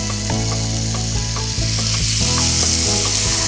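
Spicy seasoned sweet potato stems and onion stir-fry in a hot pan, giving a steady loud sizzle with occasional scraping and clatter of the utensil, no voices.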